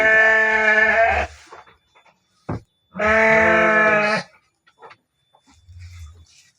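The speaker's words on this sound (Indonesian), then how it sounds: "Ieu bibit domba Garut si Rancung." Garut sheep bleat in a pen, two loud, harmonic calls about two seconds apart with short pauses between, plus a few faint rustles and knocks.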